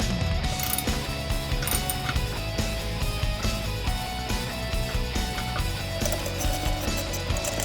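Bolts being tightened on a C3 Corvette fan clutch, with rapid ratchet clicks and metallic mechanical rattling. The sound is close and busy and keeps going throughout.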